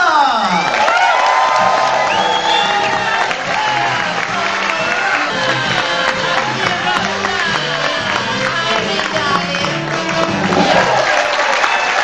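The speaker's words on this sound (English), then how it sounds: "How about a big thunderous round of applause for Jamaica's #1 comedian, Matilda!" An audience at a corporate comedy show applauds and cheers a ventriloquist's puppet act, loud sustained clapping with whoops and crowd noise throughout, close and dense, with no talking over it.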